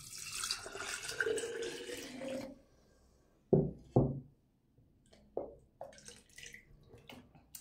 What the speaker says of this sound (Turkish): Buna biraz su koyalım.